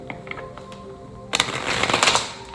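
Tarot cards being shuffled, with a faint tapping start and then a sudden burst of close riffling and flicking in the second half, with no talking.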